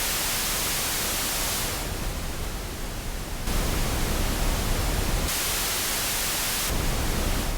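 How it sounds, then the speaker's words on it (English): Steady broadband hiss of pink noise that shifts in tone and level between a few sections, continuous with no pauses, fairly loud and alone. "If I run some pink noise through it"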